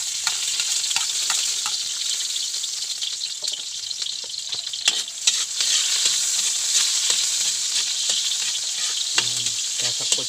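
Garlic and onion fry in hot oil for octopus or squid adobo in coconut milk, crackling and hissing continuously, with occasional stirring scrapes and sharper pops standing out near the end.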